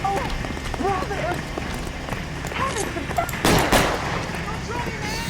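Scattered gunshots in L.A. Noire, a few sharp cracks and a louder burst mixed into busy game sounds with hoofbeat-like clatter, while people talk over the action.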